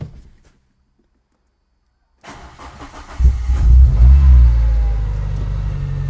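Renault Clio 172 Cup, kept on charge after sitting about six months, starts after a silent pause with a short crank, catches, and settles into a loud, close, steady rumbling idle with no talking.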